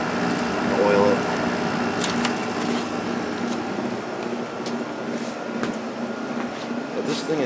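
An Emerson Quiet Kool 6,300 BTU window air conditioner runs with a steady broadband whoosh and a low hum, its fan noise constant throughout, while a person talks over it.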